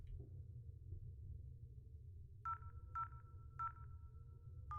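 Buttons on an internal phone in the game INFRA beep as they are pressed, four short evenly spaced dial tones over a low steady hum, no talking.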